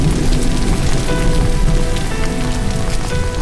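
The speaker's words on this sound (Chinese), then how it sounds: "天下起滂沱大雨" A heavy downpour of rain beating steadily on surfaces close by, a dense, loud, continuous patter with no voices.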